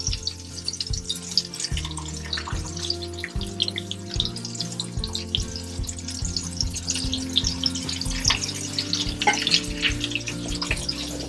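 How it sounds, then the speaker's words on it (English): Ham slices sizzle and crackle steadily in a pan for an Appalachian breakfast, a continuous hiss with constant popping, while a rhythmic background drone runs underneath. "So now we're gonna start laying our ham slices in here."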